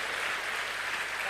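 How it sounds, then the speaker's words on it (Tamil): An audience at a training and exchange program gives loud, dense applause thanking a speaker, a continuous wash of many hands clapping throughout, with no voices on top. "பலத்த கைத்தட்டலோடு அவருக்கு நன்றி தெரிவிக்கலாம்."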